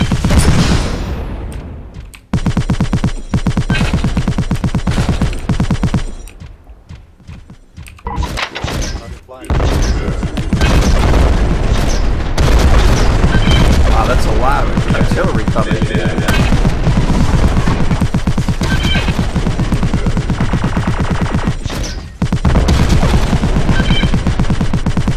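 A machine gun turret in the video game Armed to the Gears fires in long rapid bursts, dense and loud, broken by short pauses and thuds, with a player talking over the gunfire.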